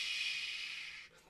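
A voice imitates falling rain with a soft, steady breathy shh held for about a second before trailing off.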